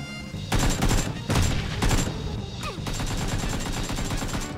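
Rapid bursts of automatic gunfire in the battle-royale game PUBG, loud and close, coming in several dense volleys with short breaks between them.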